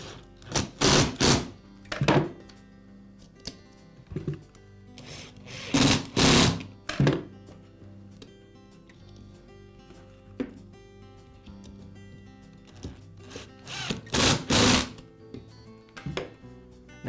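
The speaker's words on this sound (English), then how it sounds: "Now resecure the gear case with the 4 screws." A power screwdriver drives the four screws into the gear case of a DeWalt angle grinder, giving repeated loud bursts of whirring a second or two long, separated by quiet gaps and light handling clatter.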